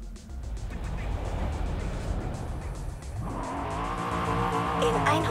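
A Corvette Stingray Coupé drives in the video game Forza Horizon 5, tires squealing at first, then a loud, rising engine note as it accelerates, heard close and continuous.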